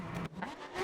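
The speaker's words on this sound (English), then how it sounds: "Ted, fire up the AMG, son." A Mercedes-AMG race car engine revs at the Oulton Park circuit during free practice. The engine note is short and fairly faint and rises in pitch as it climbs.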